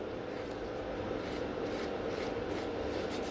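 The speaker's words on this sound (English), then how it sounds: "so I can file quite fast" A nail file works over gel nails around the cuticle area in a steady, fast rubbing rasp, close and continuous with a faint repeating sweep and no talking.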